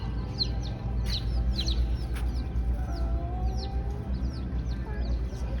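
Polish chicks peep in a farm store, many thin high chirps repeating in quick bursts over a steady low hum of store noise.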